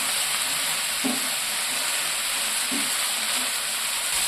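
Eggs and eggplant seasoned with chili powder sizzle in a pan in a loud, even hiss, with two soft clinks from stirring.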